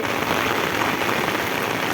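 A torrential downpour with wind pounds down in a village in Ranpur taluka of Botad district during a thunderstorm, a loud, dense, unbroken hiss of rain on surfaces.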